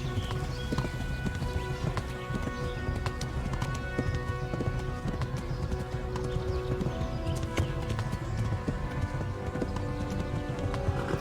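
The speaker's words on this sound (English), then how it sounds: "Resistência do cavalo é baixa, pressionando o shift você pode desacelerar para galope." Horse hooves galloping in the medieval game Kingdom Come: Deliverance, a steady, fast clip-clop rhythm that runs throughout at moderate loudness, with other game sounds beneath.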